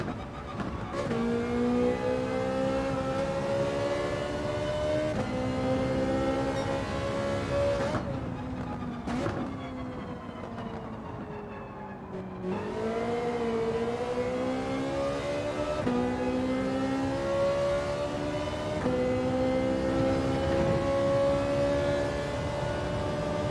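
A race car in Gran Turismo 7 screams at full throttle, its engine note climbing steadily through the gears in a loud, continuous whine, with a brief dip and lift before rising again.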